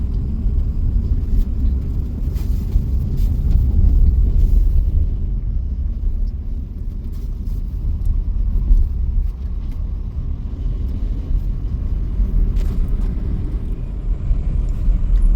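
A VW Taigun on a long drive, passing along the Mapusa–Bicholim road in Goa, heard from the cabin as a steady, loud low rumble of engine and tyre noise that holds evenly throughout, with no voices.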